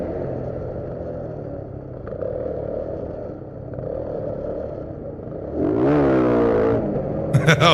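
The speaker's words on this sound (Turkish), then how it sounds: "Adam Önünü kaldırıyor motorun." A motorcycle engine rises in a sharp rev as the rider lifts the front wheel, preceded by a steady mid-distance motor drone, with a rough roaring swell and clattering toward the end.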